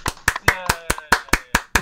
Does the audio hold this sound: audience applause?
yes